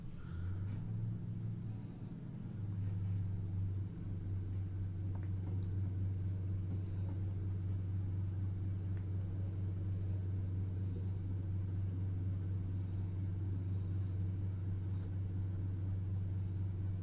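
Class 150/1 diesel multiple unit accelerating in Train Simulator 2021, a steady low engine drone and rumble that holds evenly throughout, faint and continuous with no talk.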